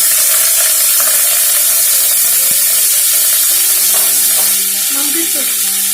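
Minced mutton sizzles loudly in a hot pan, close up and continuous, with scraping stirs, the crackle of frying filling the whole stretch.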